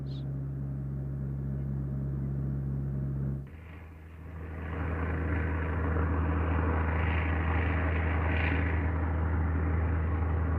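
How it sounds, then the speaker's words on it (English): Wartime PBY Catalina flying boat engines: a low steady drone that briefly dips, then swells into a louder, fuller rumble of twin radial propeller engines that holds to the end. "Soon, its engines will be heard"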